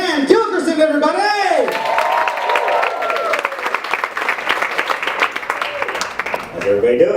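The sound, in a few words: audience applause for comedian Dan Gilkerson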